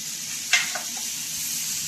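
Chopped onion frying in a pan for a Khandeshi-style chicken rassa, giving a steady broadband sizzle throughout with a brief clink or stir near the middle, close and continuous with no talking.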